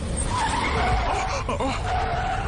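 A car swerves across a road, its tires skidding and squealing in wavering high-pitched streaks over a steady, rumbling roadway bed.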